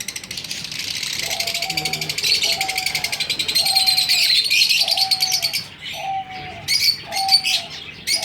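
Small caged birds chirp densely and continuously nearby, with a repeated cooing note pulsing at regular intervals underneath.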